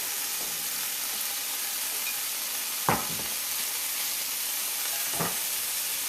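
Seim beans fry in hot oil with curry, a close, steady sizzle and hiss that stays even throughout, broken by two brief stirring clatters.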